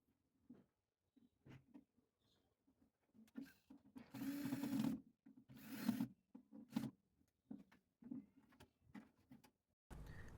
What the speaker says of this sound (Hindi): ब्लोअर को ऊपर की ओर खींच के रखना है और इसके स्क्रू लगा देने हैं ताकि ये अच्छी तरीके से बैठ जाए